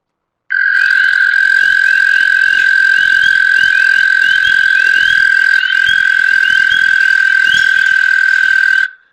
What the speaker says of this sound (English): But this long single trill is the American toad.